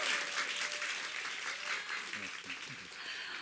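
A studio audience claps for guests on a theology talk show, moderately loud clapping that gradually tapers while a voice begins speaking underneath.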